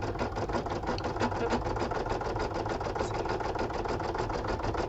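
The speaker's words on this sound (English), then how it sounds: "But while it's still stitching around," An embroidery machine stitches a Valentine card design in the hoop, a fast, steady mechanical chatter with a constant motor hum running close by and no talking.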